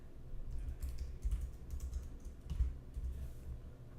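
Typing on a computer keyboard while entering a name, email address and password during Google Apps email setup in Apple Mail, a steady run of soft close keystrokes over low background hum, no one speaking.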